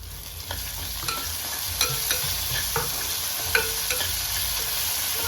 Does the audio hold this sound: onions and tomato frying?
yes